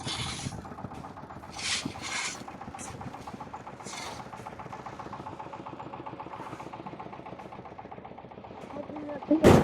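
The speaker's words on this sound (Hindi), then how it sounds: "ये इस मशीन के अंदर डालेंगे तो ये मशीन इस तीनों चीज़ों को, बजरी, रेत और सीमेंट को मिक्स करके कंक्रीट बनाएगी।" A concrete mixer machine churns gravel, sand and cement on a basement construction site, a steady rumbling mechanical drone with rhythmic clanking, and a sharp loud bang near the end.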